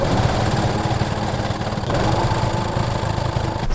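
A sewing machine stitches quilt fabric sleeves on a hoodie, a steady close mechanical whir with a fast rhythmic motor pulse and a brief dip midway, and no talking.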